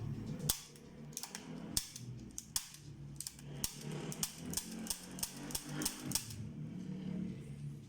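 A toy cap pistol, freshly fitted with a new trigger and spring kit, fires a quick irregular string of sharp, close snaps, more than a dozen shots in about eight seconds, with a few quieter clicks between them.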